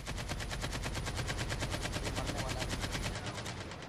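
Rapid automatic gunfire in a Call of Duty multiplayer match, a continuous fast burst of shots lasting several seconds, loud and close, tapering near the end.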